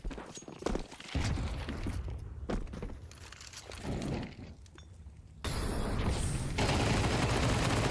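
SMG fire in a Counter-Strike match rattles out in quick bursts amid footsteps, impacts and a shattering crash, with the game mix growing louder and denser toward the end.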